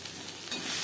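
Onions fry in a pan on a low-to-medium gas flame, a steady soft hiss and sizzle with slight rustling, heard alone and close.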